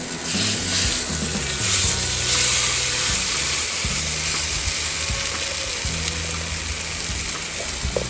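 Mustard pork chops sizzle steadily in a pan, a continuous hissing crackle that stays loud throughout with some mechanical ticking underneath.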